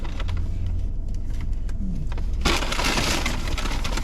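Takeout Indian food container being unwrapped, with scattered crinkles and rustles that become a loud, close burst of crackling plastic partway through.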